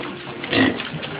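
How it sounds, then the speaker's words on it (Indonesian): A litter of eleven piglets on a pig farm rush their feed, a dense continuous mass of close grunting and snuffling with one louder squeal-like grunt in the middle. "pakan yang diberikan langsung diserbu oleh satu peranakan anakan babi yang berjumlah 11 ekor ini"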